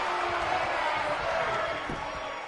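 Wrestling arena crowd in WWE 2K19 roars and cheers steadily throughout, a dense wash of noise with game commentary talking over it.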